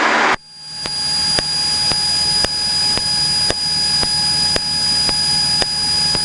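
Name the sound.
noisy airplane flying overhead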